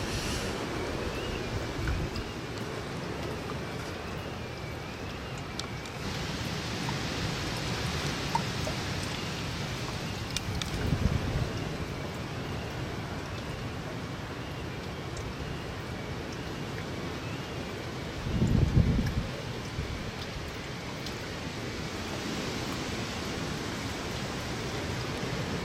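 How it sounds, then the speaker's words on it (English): Windstorm Barney blowing through a sheltered spot in the rain, a continuous broad rushing of wind and rain heard from close by, with a couple of brief heavier gusts or bumps against the microphone and no talking. "You can hear the wind more behind me."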